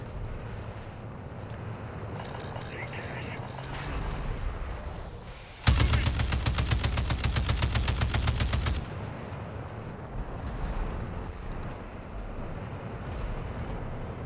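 Rapid automatic gunfire in Call of Duty: Warzone Armored Royale bursts out for about three seconds in a dense, loud rattle, with lighter distant shots before and after over a windy rumble.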